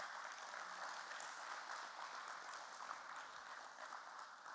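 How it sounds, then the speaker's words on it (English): Audience applause at a stock exchange listing ceremony, steady even clapping from a crowd lasting several seconds, moderately distant and fairly quiet, with no talk over it. "Let's give a loud round of applause for sir,"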